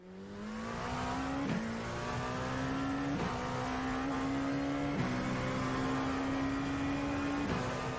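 A Dallara P217 LMP2 prototype race car in iRacing drones steadily from the cockpit, its engine pitch climbing through each gear and dropping sharply at roughly three upshifts, loud and continuous with no talk.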